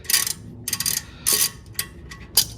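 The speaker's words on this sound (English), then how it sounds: "This is a 14 millimeter. So you wanna break this one loose first. If I can hold on to the ratchet and do this." A ratchet turns in short bursts while breaking loose a 14 mm brake caliper bolt on a 2019 Subaru Outback, its pawl clicking rapidly in several separate strokes with brief pauses between.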